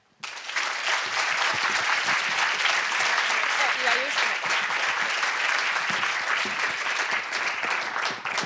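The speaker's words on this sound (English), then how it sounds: "Big, big, huge round of applause for Rebecca." Keynote audience gives a big round of applause for the speaker, a loud, sustained, dense clapping from a large crowd that starts suddenly and continues evenly without a break.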